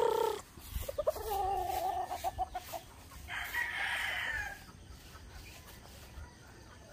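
Fighting roosters (gamecocks) cluck and squawk nearby on a farm in Cavite, a run of short choppy clucks followed by a harsher drawn-out call, then quieter background.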